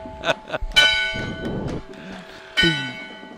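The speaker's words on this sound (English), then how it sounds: "There's the bell." A bell clangs twice with ringing overtones at a Christmas parade in Lincolnton, separated by a stretch of clattering noise and faint voices in the background.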